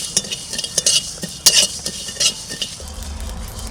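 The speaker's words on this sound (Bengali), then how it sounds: "একটু মশলা ভাজবো আগে প্রথমে।" Dry red chilli, bay leaf, coriander and cumin frying in a pan, with scattered scrapes and clinks from a stirring spoon over a soft, steady sizzle, close and fairly quiet.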